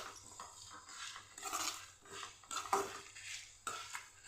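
Masala being dry-roasted in a pan and stirred by hand, with soft scraping sweeps and occasional clinks of the spoon against the metal, quiet and close, arriving in irregular bursts.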